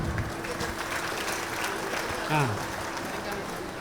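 Audience clapping at a vegetarian rally in Charminar: a steady wash of crowd applause that is fairly distant and continuous throughout.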